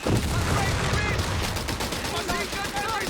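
Light machine gun suppressing fire from commandos in Company of Heroes 3, a dense sustained rattle of rapid shots over battlefield noise, with a voice talking over it.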